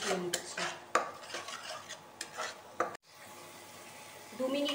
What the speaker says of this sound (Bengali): দু মিনিট আমি মশলাটাকে কষিয়ে নিচ্ছি।